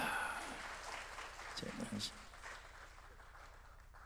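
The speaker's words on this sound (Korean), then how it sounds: "우리 박찬종 전 의원님께 뜨거운 박수를 보내주시기 바랍니다" Audience applause at a meeting of a national elders' council held in a hotel, fairly faint and brief, with a short burst near the middle that fades away.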